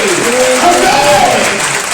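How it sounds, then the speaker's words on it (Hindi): Steady, dense applause from a church congregation fills the whole moment, loud and continuous with crowd noise mixed in. "Let us give a big applause to thanks Jesus."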